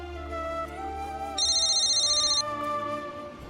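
A phone ringtone chirps in a steady electronic trill for about a second over a drama's background music, then stops.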